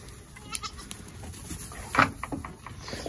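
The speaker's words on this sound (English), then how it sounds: "just having fun, chasing these goats" Several goats on a farm, chased by a livestock guardian dog in arctic weather, bleat in short, scattered cries, one louder call standing out midway, over a quiet outdoor background.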